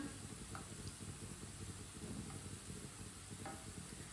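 Aloo kebabs fry in a pan over a low flame with a quiet, steady sizzle and a few faint clinks, no voices.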